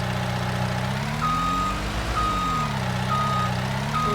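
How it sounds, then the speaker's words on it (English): Skid steer in a Michigan role-play video game, a steady engine drone that rises and falls under evenly spaced reversing beeps repeating about once per second, with no voices. "I love this skid steer."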